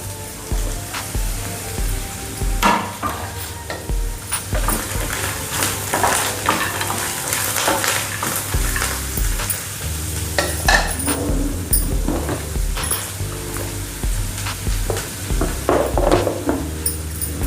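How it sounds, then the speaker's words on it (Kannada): Fenugreek, cumin and sesame powder being stirred into rice in a pan for South Indian garlic lemon rice, a steady scraping and light sizzling that runs close and continuous throughout, with no talk. "ಮೆಂತ್ಯ ಮತ್ತು ಜೀರಿಗೆ ಎಳ್ಳು ಪೌಡ್ರ್ ಸ್ವಲ್ಪ ಮಿಕ್ಸ್ ಮಾಡ್ತೀನಿ"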